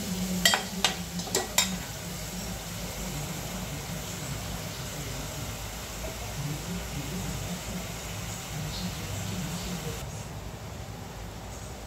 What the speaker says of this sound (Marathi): मसाला टाकून छानपैकी आपल्याला तेलामध्ये मसाला परतून घ्यायचा आहे